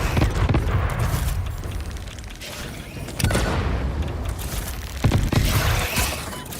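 Repeated heavy blasts from carpet bombing a cluster of spiders in the factory game Satisfactory, several deep booming explosions a couple of seconds apart with rumbling debris in between, loud and close, no talk.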